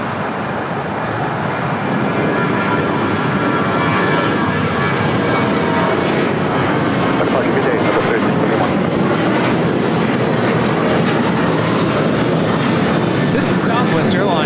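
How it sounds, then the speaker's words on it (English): A Southwest Airlines Boeing 737-800 jet takes off at LAX, its engines giving a loud, steady broadband roar that holds throughout, with voices talking over it. "Southwest Airlines 3671 taking off to Austin on a 737-800."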